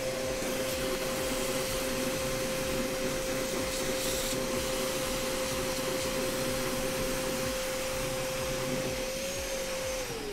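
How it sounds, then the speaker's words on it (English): A vacuum cleaner runs continuously with a steady loud whine and rushing airflow, held close while sucking dust off the dirty back panel of a Nintendo Switch during a teardown; its pitch drops slightly at the very end. "I'm gonna go ahead and use a vacuum cleaner real quick"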